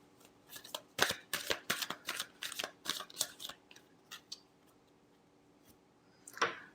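Tarot cards being shuffled: a quick run of crisp riffling flicks and snaps over several seconds, close and fairly quiet, ending with one final sharper flutter.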